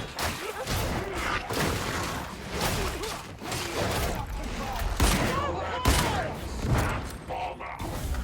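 Gunfire in Warhammer 40K Darktide, played as a Skitarii: an ongoing volley of shots and mechanical clatter with several louder cracks, under a dense combat din with occasional voices.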